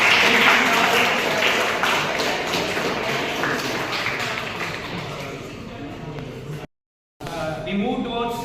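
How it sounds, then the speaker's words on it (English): An audience at an institutional design-thinking session applauds a presenting team, a dense, steady wash of clapping that fills the room, then cuts out abruptly before resuming briefly. "Give them a big clap to the"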